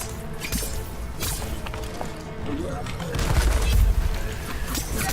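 Skarn monster in a video game rumbling and then firing off shards from its shard launcher, a dense crackling barrage of impacts with heavy low thuds, loud and layered over game ambience.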